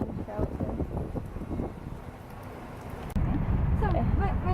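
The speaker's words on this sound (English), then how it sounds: "It's raining, it's windy, and it's cold." Wind and rain outdoors on a cold, wet day trip in Nara, Japan: steady broadband gusting and rain hiss with wind buffeting the microphone, rising suddenly louder near the end, while people's voices and other activity come through underneath.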